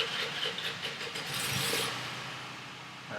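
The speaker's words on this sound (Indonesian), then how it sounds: "Maaf kalau berisik, ada suara motor ya." A motorbike engine runs close by in a village, giving a steady, fairly loud rumbling roar that swells slightly midway and continues without a break.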